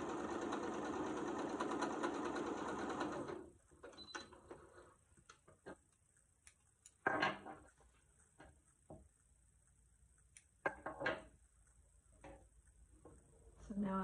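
A sewing machine stitches fabric strips together for a hot pad, running in a steady, buzzing whir for a few seconds before stopping, followed by quiet, scattered clicks and handling noises.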